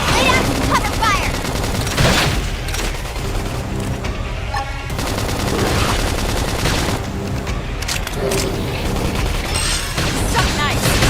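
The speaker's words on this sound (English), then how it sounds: "Lay down some cover fire!" Dense, continuous gunfire and explosions roar through a Xenoblade Chronicles X battle, loud volleys layered with game music and effects, while combat voices call out over the din.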